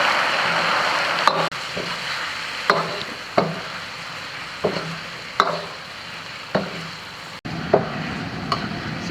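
Sugar being stir-fried in a wok to caramelize for braised beef tongue, with a steady low sizzle and scraping stirs of the spatula recurring every second or so, close and without talk.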